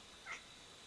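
A cat gives one short, faint meow partway through, set against a quiet, steady room hiss with no talking.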